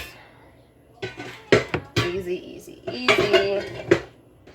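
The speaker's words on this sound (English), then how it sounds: "Take off your lid. Into the Instant Pot it goes." A yogurt container is set down inside an Instant Pot for homemade yogurt and the lid is handled, giving a run of close, clattering knocks of metal and plastic at moderate loudness with no talk.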